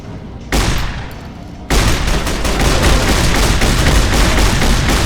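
A gun fires in the video game Fallout New Vegas, first as a short burst and then as a loud, continuous run of rapid automatic shots that fills the rest of the clip, with no voices over it.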